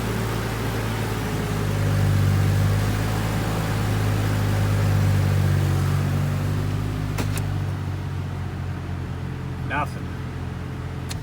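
Chevrolet Trailblazer engine idling steadily after a 4L60E transmission install, a loud continuous hum and drone with a faint voice briefly heard before the sound quiets slightly.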